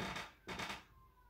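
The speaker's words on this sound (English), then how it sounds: "I hear a cat." A house cat gives two short meows in quick succession, faint and somewhat distant, followed by quiet room tone.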